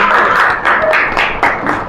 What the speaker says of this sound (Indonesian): Tepuk tangan dulu lah Papa,